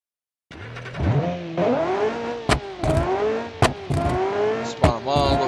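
A car in BeamNG.drive pulls away and accelerates, its engine note rising and dropping through gear changes, with sharp clicks and knocks breaking in throughout.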